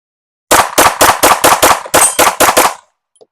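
A rapid string of about ten loud, close gunshots from an S&W Spec Series V steel frame pistol, evenly spaced with a brief pause midway, then silence.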